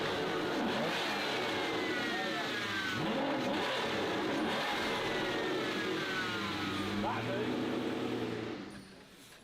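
A car engine revs hard in an enclosed space, rising and falling through repeated loud surges for several seconds before the sound cuts off sharply near the end.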